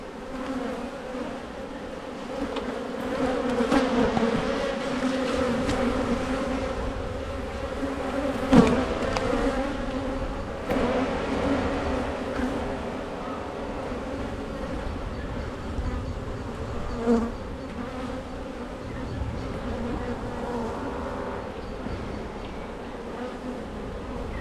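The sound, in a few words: honey bees buzzing in an open beehive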